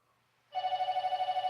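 After a brief quiet moment, a telephone bell starts ringing, a loud rapid trilling warble that continues steadily.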